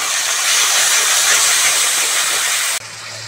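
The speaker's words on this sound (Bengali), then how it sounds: "মশলাটা ভালো করে ভেজে নিয়েছি," Cumin-based spice paste frying in a pan for a Bengali fish curry gives a loud, steady, close hiss that cuts off abruptly near the end.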